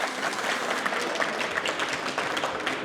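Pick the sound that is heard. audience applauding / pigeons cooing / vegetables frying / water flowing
audience applauding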